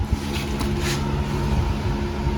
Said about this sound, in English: grab a angle grinder with a wire wheel on it, clean this up